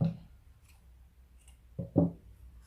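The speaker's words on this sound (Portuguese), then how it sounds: "E posso cortar o fio." Crochet yarn is snipped with scissors at close range, giving a couple of short, soft cutting clicks near the end after a quiet pause.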